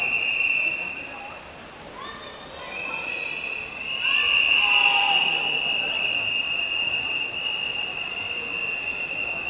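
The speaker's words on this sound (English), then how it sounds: "So, there's the whistle for the first three girls." Referee's whistle at a county swimming championship, a long steady shrill blast held for several seconds in a reverberant pool hall, over crowd noise and commentary.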